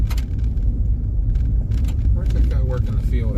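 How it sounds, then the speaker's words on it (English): A pickup truck drives close behind on a rural road near logging in West Virginia or Pennsylvania, heard as a steady loud road rumble and engine noise from inside a moving vehicle, with people talking throughout. "Oh, I got a pickup truck behind me."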